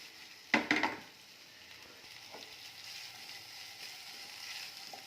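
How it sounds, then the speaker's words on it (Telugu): Boiled potatoes tipped into hot oil give a sharp clatter and a sudden splash, then a soft steady sizzle from the frying pan. "ఆలు ఫ్రై చేస్తున్నాం."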